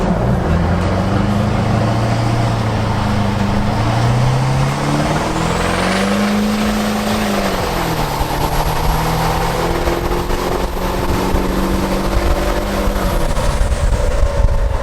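A Duramax diesel pickup with a new turbo accelerates hard, its loud engine note climbing and shifting through gears, with a rising high turbo whistle over the roar.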